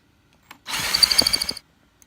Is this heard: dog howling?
no